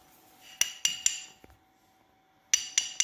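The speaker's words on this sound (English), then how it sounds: "Now we're just setting the bushings." Bushings are tapped into a 1971 Chevrolet C10 door hinge with a hammer, two clusters of three sharp metallic clinks separated by a quiet pause, close and alone.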